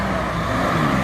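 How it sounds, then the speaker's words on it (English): A 1984 Maserati Bi-Turbo S drives along a road in Switzerland, its engine and road noise forming a steady, continuous interior drone. "I'm now driving a Maserati Bi-Turbo S from 1984"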